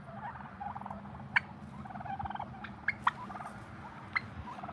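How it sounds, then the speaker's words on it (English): Turkeys in a backyard pen gobbling, several rattling gobbles breaking out at intervals over a low, steady outdoor background with no talk. "I have a turkey pen."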